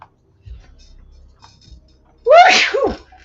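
A single loud, close sneeze bursts out after a few faint ticks and small handling noises in a dusty workshop cave, with no talking over it.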